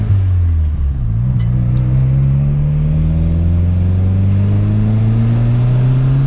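Orange VW Golf turbo with 300 hp accelerating, a loud close engine drone whose pitch climbs steadily after a brief dip, as if changing gear, with no talk over it.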